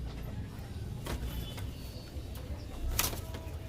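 Two Kaldum pigeons released from a loft, with a few quick bursts of wing flapping over a steady background rumble, no voices.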